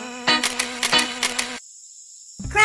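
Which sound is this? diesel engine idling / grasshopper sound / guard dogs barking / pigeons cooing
grasshopper sound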